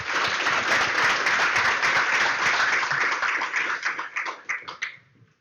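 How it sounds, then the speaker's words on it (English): Conference audience at the Qt Developer Days 2012 session on QtCore gives a speaker a round of applause: loud, dense clapping that holds steady, then thins to a few scattered claps and dies away after about five seconds. "So please, a huge round of applause."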